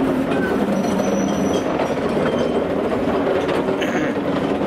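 Steady rumble and clatter of a heritage train ride behind a Great Western locomotive on the Gwili Railway, loud and continuous, with a faint rhythmic clickety-clack of wheels and no talking.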